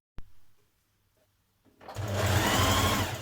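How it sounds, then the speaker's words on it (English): Sewing machine stitching a stretch skirt seam, starting after a single soft knock and a near-silent pause, then running in a steady, loud, continuous whir up close. "Make sure you've matched all those notches up evenly, and then we can stitch it in position."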